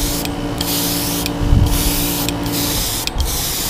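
An airbrush hisses in short bursts as a single layer of paint is sprayed over a fishing lure, four spurts separated by brief pauses, close and steady, with faint low hum beneath.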